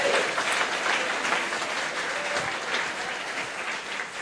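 A church congregation applauds steadily for about four seconds, a dense wash of many hands clapping together that holds at an even level and eases off slightly toward the end, with no voices heard over it.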